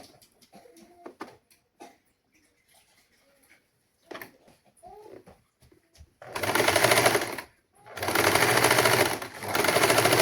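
A sewing machine stitches a saree blouse. After soft handling sounds, it whirs loudly and rapidly in two close bursts separated by a short pause.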